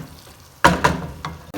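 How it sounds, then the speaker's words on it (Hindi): Carrots and peas stir-fried with potatoes in a pan, a faint low sizzle broken by a few sharp scraping clatters of stirring, heard close with no talking. "इनको भी हम आलूओं के साथ ही थोड़ी सी भुनाई करते हैं तकरीबन 1 मिनट।"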